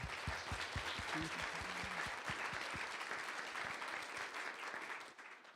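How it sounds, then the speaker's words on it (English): Workshop audience applauding speakers at the close of a session, a dense, steady wash of many hands clapping that holds for several seconds and then thins out at the end. "let's give all our speakers another round of"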